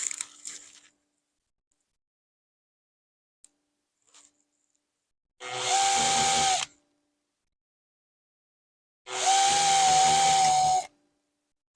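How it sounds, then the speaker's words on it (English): Electric drill boring out the rivet heads on a vintage Olympic tube radio's phonograph cartridge, heard as two separate steady whining bursts of about a second and a half each, close and loud with quiet pauses between. "I'm going to take a drill and carefully drill out these two rivets in the front and one in the back"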